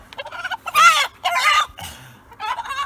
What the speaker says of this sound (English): So I just caught